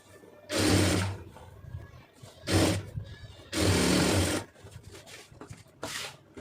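Sewing machine stitching a silk blouse with its lining, four bursts of fast, buzzing needle runs, close and loud, separated by short quiet pauses.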